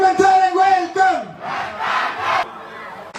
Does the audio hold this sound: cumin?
no